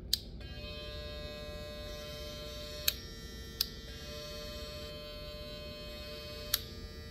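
A StyleCraft or Babyliss hair clipper or trimmer motor runs alone with a steady, close electric buzz, marked by a few sharp clicks or ticks along the way.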